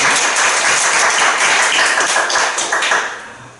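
Dense applause from a church congregation during an Easter Sunday service, a steady wash of many hands clapping that tapers off near the end.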